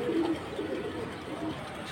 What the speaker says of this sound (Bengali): কালো গলার জাবরা পাঙ্কি ভাই। হ্যাঁ, কালো লাইনের পাঙ্কি কবুতর।